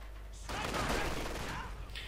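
Bursts of machine gun fire from Wehrmacht Grenadiers with light machine guns in a Company of Heroes 2 one-on-one match, a dense, steady rattle of battle that starts suddenly and fades near the end.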